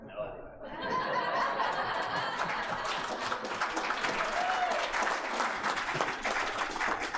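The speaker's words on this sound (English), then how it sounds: "another round of applause for everyone" A county board meeting audience breaks into applause that swells after a brief quieter start, mixed with light chuckling and some voices talking underneath.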